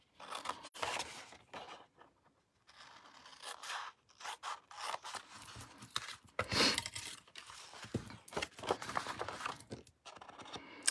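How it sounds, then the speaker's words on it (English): Scissors cutting paper for a handmade gift bag, with repeated close snips and rustling paper between cuts. "just cut off a little angle on each side"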